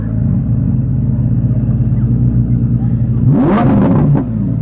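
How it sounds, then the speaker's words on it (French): Maserati sports car in Trofeo mode idles with a low steady rumble, then near the end gives a couple of sharp, loud throttle blips that rise and fall quickly, close by. "On va lui mettre des petits coups de gaz."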